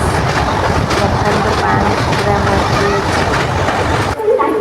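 A local train runs loudly on rails in a steady, continuous rumble with faint rhythmic clatter, near the Subarnarekha bridge on the approach to Jadeshwar station, with voices faintly under the noise.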